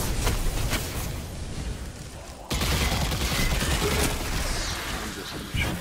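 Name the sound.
gunfire in the video game Destiny 2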